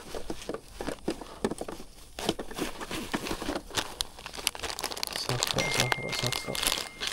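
Plastic zip bag of soft fishing lures crinkling and rustling in the hands, close and continuous with sharp crackly bursts, during a freshwater fishing outing.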